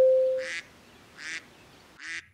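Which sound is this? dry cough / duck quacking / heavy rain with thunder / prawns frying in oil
duck quacking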